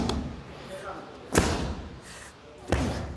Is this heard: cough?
no